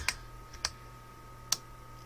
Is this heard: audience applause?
no